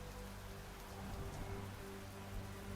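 Steady rain falls in Arknights, a soft continuous patter on surfaces with no thunder, heard alone and fairly quiet under a faint low hum.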